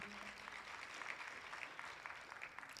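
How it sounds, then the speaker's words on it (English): Audience applause at an inauguration ceremony, a steady dense patter of many hands clapping, fairly faint and distant throughout. "Let's give him another round of applause"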